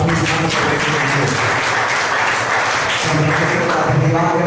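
A church congregation claps together during a Hindi-language worship service, a dense, steady wash of applause held for several seconds at close range, with faint voices mixed underneath.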